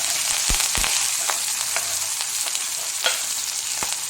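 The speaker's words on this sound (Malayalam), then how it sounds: "ഇനി നമുക്ക് നാല് പച്ചമുളക് അരിഞ്ഞത് ആ എണ്ണയിലേക്ക് ഇട്ട് കൊടുക്കാം" Chopped green chillies fry in hot oil with popped mustard seeds for a pickle, a steady bright sizzle with sharp spattering crackles and a few pops and stirring clicks, close and alone without talk.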